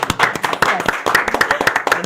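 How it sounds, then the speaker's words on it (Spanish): A church audience applauds welcomed guests, loud close clapping with distinct sharp hand claps in an uneven, brisk rhythm for about two seconds. "Un aplauso, un aplauso."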